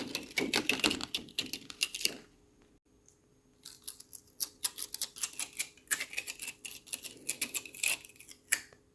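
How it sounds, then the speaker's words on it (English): A Cricut machine cuts paper on a mat with rapid, close clicking and whirring bursts, a brief quiet pause, then more busy rhythmic clatter; no talking. "While the machine cuts out that paper, I can peel this one off."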